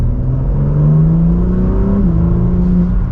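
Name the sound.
BMW M4 CSL engine exhaust revving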